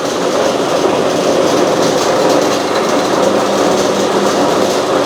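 A flour grinding mill runs at home, giving a loud, steady mechanical drone with a dense rumble and rattle that never lets up, with no voices.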